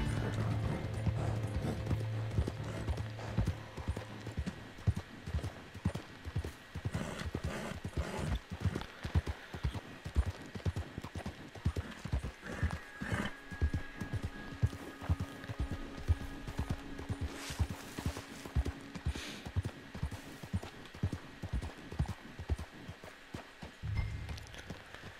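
Horse hooves clip-clop in a steady galloping rhythm in the video game Red Dead Online, with mechanical creaks and a brief whinny. The sound is continuous and moderately close, with no speech.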